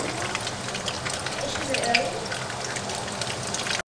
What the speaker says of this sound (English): So, normally I air fry them, but I'm just frying them today.